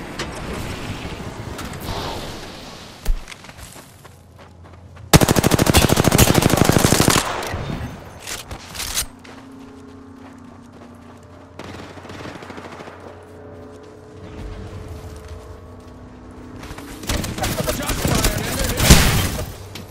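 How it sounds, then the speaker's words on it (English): Automatic weapon fire in the battle-royale game Apex Legends, heavy bursts loud and close, with quieter stretches of game ambience and distant shots between the volleys. "Taking fire."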